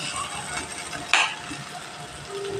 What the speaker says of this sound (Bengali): এবার এখানে আমি আলুগুলো যে ভেজে রেখেছি মশলার সাথে একবার কষিয়ে নেব।